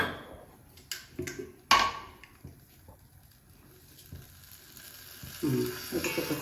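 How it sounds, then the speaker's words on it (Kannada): Butter heats in a pan on a stove for homemade ghee, with salt and turmeric stirred in. A faint, steady sizzle hisses throughout, broken by a few sharp utensil clinks and knocks, with no voices. "ಈ ಬೆಣ್ಣೆ ಕಾಯ್ತಾ ಇದೆ"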